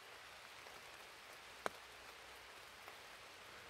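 Steady rain patters on a tent beneath trees along a hiking trail, a soft, even hiss of drops with one sharper tap partway through; no voices.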